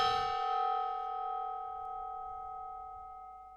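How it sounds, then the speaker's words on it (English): A gong struck once indoors, a sharp hit followed by a long, ringing metallic tone with several sustained pitches that slowly fade over a few seconds, heard alone without talk. "So now I have a gong"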